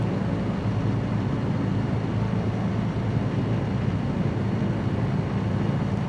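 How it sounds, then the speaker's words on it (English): A steady, droning light-aircraft engine hum from a Rans S6S Coyote in a flight simulator game over New Guinea highland mountains, constant and moderately loud with no voices. "So let's see if the engine is healthy."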